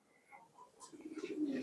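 Fancy pigeons at a pigeon farm give soft, low cooing calls, faint and close, building into a rolling coo toward the end with a few light chirps mixed in.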